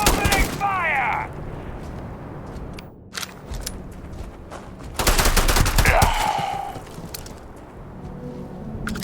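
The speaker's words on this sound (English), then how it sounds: "Opening fire!" Gunfire in the space game Starfield: loud bursts of shots with impact and effect noises, a sharp cluster near the start and another heavy barrage midway, mixed with electronic game sounds.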